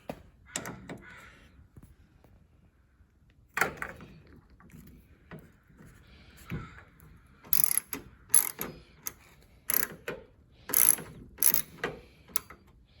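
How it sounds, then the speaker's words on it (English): Small mechanical clicks and ratcheting taps from a tool backing T30 screws out of the interior sliding door panel on a 2008-2016 Chrysler Town & Country or Dodge Caravan minivan, coming in short irregular bursts close by. "There's 3 screws back here, and they use a T30. So take those off."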